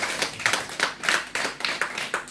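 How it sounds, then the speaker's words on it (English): A church congregation claps together in a steady rhythmic beat, hands striking in regular pulses, fairly close and lively. "Can we give a round of applause for Jesus?"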